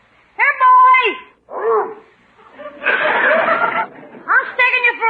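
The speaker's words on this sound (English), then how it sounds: "I'll take the dog with me." A big dog barks and whines in a series of short, voiced yelps and howl-like cries, loud and close, with a burst of breathy noise between them.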